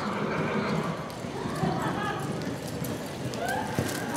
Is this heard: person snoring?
no